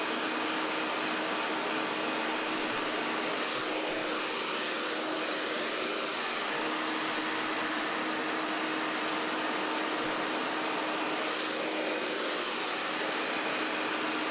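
A hair dryer blows steadily on afro-textured hair being worked with a bristle brush, a constant close airy whoosh with a faint hum that runs unbroken and alone for the whole stretch.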